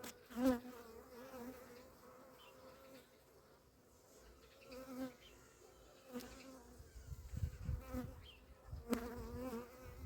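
Honeybees buzz around an open beehive as the colonies build up, a steady close droning hum with a few brief louder surges of activity near the end.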